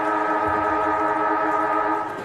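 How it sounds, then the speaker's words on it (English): The halftime siren at an Australian rules football match between Darwin Buffaloes and Nightcliff in the NTFL Men's Premier League gives one steady, loud, sustained wail that begins to fade at the end. "So the halftime siren sounding here."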